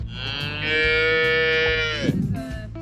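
A young calf raised alongside dogs moos in one long, loud, drawn-out call lasting over a second, close by on a farm at an ecosystem restoration camp in Spain, with a short rough grunt just after.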